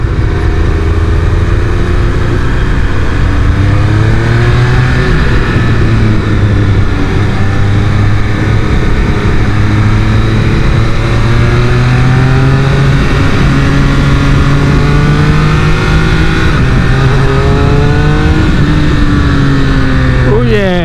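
Motorcycle engine revving and accelerating on a freeway, its pitch climbing and dropping through gear changes, loud and close with steady road and wind roar.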